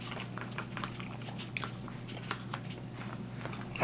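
Close, soft bites and wet chewing of Doritos-dusted mac and cheese at a restaurant, small crunchy clicks scattered over a steady background hum, with no talking.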